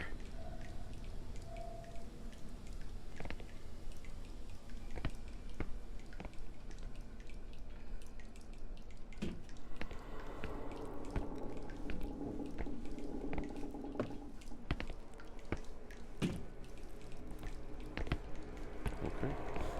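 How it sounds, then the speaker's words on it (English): Leaking sewer pipes drip water in the horror game Song of Horror, giving quiet, scattered drips and splashes over a low murky ambience, with irregular spacing and soft texture throughout. "Pipes are leaking everywhere."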